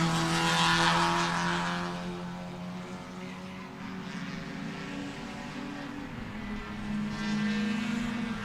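A race car at Sebring's turn 4 jumping the curb at the apex, its engine roaring loudly and steadily with tire noise, first swelling and then easing slightly over several seconds.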